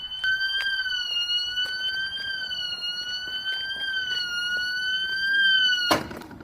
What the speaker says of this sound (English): Already set the alarms off.